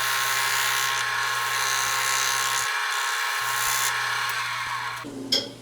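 Woodturning lathe shaping a green apple wood bowl from end grain, a steady loud whine with a low hum running continuously, briefly dipping in the low end, then ending in a short louder scrape.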